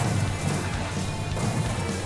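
A car crash in the Wreckfest demolition arena video game: a dense, rumbling smash of metal impacts with steady engine roar throughout, loud and continuous for two seconds.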